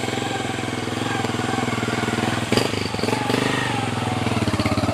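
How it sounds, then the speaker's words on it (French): A motorcycle engine runs close and loud with a steady throbbing rhythm, holding near idle with a slight surge partway through, on a poorly maintained road used for patient transfers. "un transfert qui se fait uniquement par moto"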